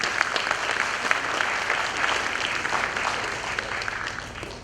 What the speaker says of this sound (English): So a good round of applause for all of you.